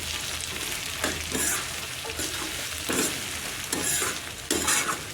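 Ginger-garlic paste sizzles in a hot pan for peanut curry, with several bursts of scraping as it is stirred. The frying hiss stays constant throughout, and no one talks.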